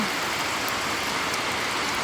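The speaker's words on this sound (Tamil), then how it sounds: "எப்படி மழை பெய்யுது பார்த்தீங்களா?" Heavy rain falls in a dense, steady hiss, loud and continuous with no voices.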